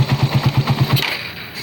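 A Raider 150 motorcycle running 180cc with a 30mm flat-slide carburetor idles in a quick, even thump, then gets a brief throttle blip that rises into a rougher roar and fades.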